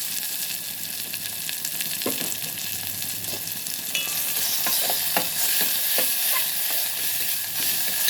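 Ginger garlic paste sizzles in a hot pan while being stirred, giving a steady close frying hiss with repeated scraping and clinking strokes and no talk.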